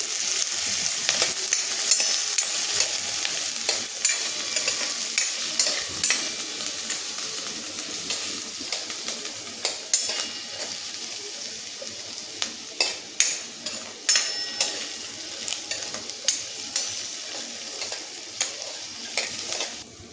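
Garlic and spinach-dish ingredients sizzle and crackle steadily in a pan over medium heat for palak paneer, with occasional clicks and scrapes of a stirring spoon.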